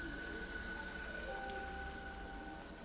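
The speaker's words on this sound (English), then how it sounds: "standing in the rain is making me cold." Steady rain falls in a video game scene, a dense, even hiss of drops throughout with no voices.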